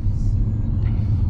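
A car engine runs steadily with a loud, continuous low rumble throughout, close by and unbroken, with no clear speech over it.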